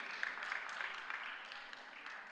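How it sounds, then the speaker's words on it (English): Audience applause at a spelling bee: steady, even clapping from a crowd, moderately distant and fairly quiet, running unbroken with no voices over it. "let's give them a round of applause for their continued support of the Spelling Bee"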